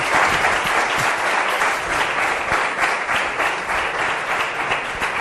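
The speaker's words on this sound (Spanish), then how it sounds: "Un aplauso." Steady, sustained audience applause following a talk, a dense wash of many hands clapping evenly throughout, fairly close and without pauses.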